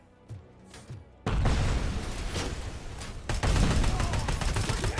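Sustained gunfire from the RoboCop: Rogue City video game, a few faint shots at first and then a loud, dense fusillade of rapid bursts and booms with no talking.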